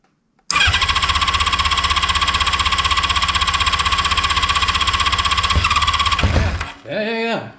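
A 1982 Honda CB650 motorcycle engine fires up and runs loud and steady with a rapid, even beat and some squealing, then cuts out abruptly near the end, after which a voice speaks briefly.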